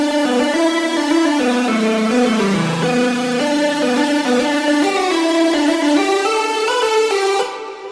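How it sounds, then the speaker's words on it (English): Lead synth playing a bright, sustained stepwise melody in a dance track, loud and upfront, with rich harmonic tone gliding between notes for several seconds before thinning out at the end. "I'm actually introducing a lead synth"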